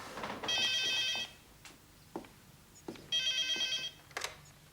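An indoor telephone gives two bursts of bell-like ringing separated by a pause, clear and fairly close, with faint knocks and movement noises between the rings.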